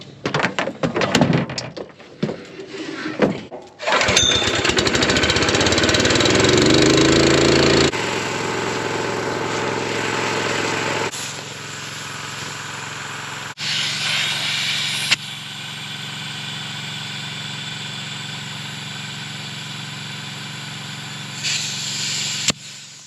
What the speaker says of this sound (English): I've got an air compressor.